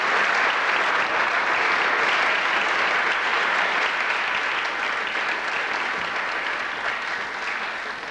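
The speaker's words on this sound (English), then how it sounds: "Applause, applause, applause." Sustained audience applause at the Miss GB 1983 pageant fills the space, dense, even clapping from a large crowd that stays loud throughout and eases off slightly near the end.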